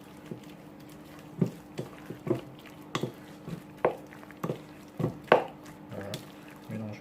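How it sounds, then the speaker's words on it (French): Choux pastry dough being worked with a spatula after eggs are added one by one, giving soft wet squishing and slapping strokes at an irregular rhythm, close and fairly quiet. "Je continue à mélanger."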